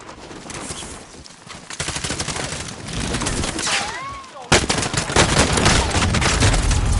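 Gunfire in the video game Warzone: rapid bursts and scattered shots over continuous battle noise, growing louder and denser toward the end, with a voice talking over it.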